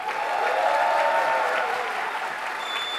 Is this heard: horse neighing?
no